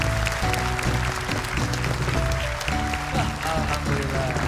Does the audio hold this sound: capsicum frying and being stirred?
no